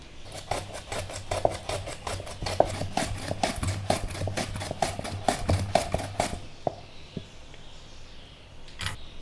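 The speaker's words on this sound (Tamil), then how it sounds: "இந்த மாதிரி நீங்க மெல்லிசா ஸ்லைஸ் பண்ணி வெச்சுக்கங்க." A knife thinly slices cucumber on a board, a quick, steady run of sharp, close taps that stops, followed by one last isolated tap.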